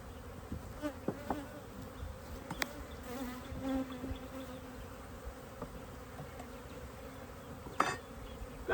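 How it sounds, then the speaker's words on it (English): Steady buzzing of many robber bees swarming close by around a hive, a constant insect drone with occasional louder passes near the listener. "Got some robber bees that have joined the hive."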